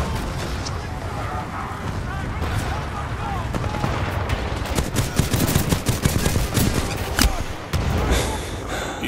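Rapid gunfire and explosions fill a Titanfall 2 battle near a crash site, with dense automatic bursts and heavy impacts building toward the middle and under a speaking voice.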